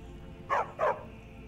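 A dog in the video game Skyrim gives two quick barks, close together and fairly clear, over a low steady game ambience.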